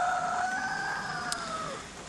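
A cockerel crows in a garden near a polytunnel, a single drawn-out call lasting about two seconds that trails off, moderately distant over faint background noise.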